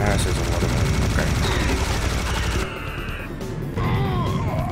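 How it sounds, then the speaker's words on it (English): Machine gunner enemy in Serious Sam HD: The First Encounter firing rapid bursts of automatic gunfire, loud and dense, with a short drop partway through before the shooting resumes amid game sounds. "Machine gunner shooting"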